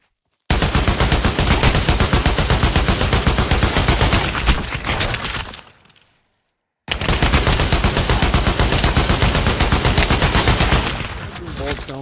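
Long bursts of rapid automatic gunfire in the Pavlov VR shooter, loud and close, run in two sustained strings separated by a brief silent gap, each volley a dense machine-gun rattle.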